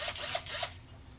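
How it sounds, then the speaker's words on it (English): A power drill whirs in a few short, quick bursts, each spin rising and cutting off, fairly close and moderately loud before falling quiet. "We use my drill!"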